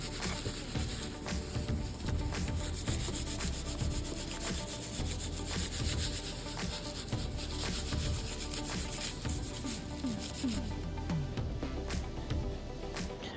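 Wet felting toddler boots: wet wool rubbed steadily by hand, a continuous close, loud swishing and scrubbing texture with uneven rhythmic strokes, no talking.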